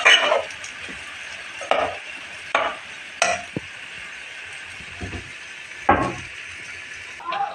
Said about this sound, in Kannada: ಹಾಲು ಕುದಿಯುವ ಹಂತಕ್ಕೆ ಬಂದ ಮೇಲೆ ನೆನೆಸಿದ ಅವಲಕ್ಕಿ ಹಾಕಿ ಮಿಕ್ಸ್ ಮಾಡಿಕೊಳ್ಳಬೇಕು